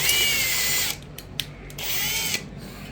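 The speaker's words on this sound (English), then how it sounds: "now we'll go ahead and drill the second hole" Power drill boring a hole during installation of a 3000 W ebike conversion kit, a loud steady high-pitched whine that cuts out briefly with a few clicks and taps, then runs again before stopping.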